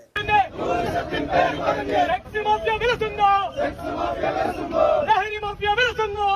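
A crowd of young protesters shouts in unison at a gathering in Pazhaya Vythiri, Wayanad, with loud rhythmic chanting in repeated bursts and brief pauses between them.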